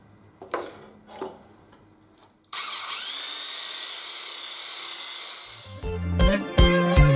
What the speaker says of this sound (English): Just a quick rub with the drill